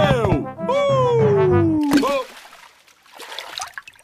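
In the Peppa Pig cartoon, a character splashes into muddy puddles left by a rain flood. A drawn-out, sliding cartoon voice comes first, followed by softer, scattered splashing and sloshing.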